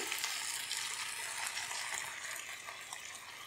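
Peri peri sauce poured over half-cooked chicken in a pan sizzles as a steady, bright hiss that holds at an even level throughout, with no one talking.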